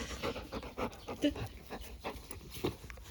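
Close, soft rhythmic panting from a Labrador, quick breaths repeating steadily with someone speaking quietly over it.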